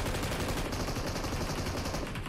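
Dense, continuous gunfire in a first-person shooter game, rapid overlapping bursts from several weapons firing at once, loud and close throughout with no talking.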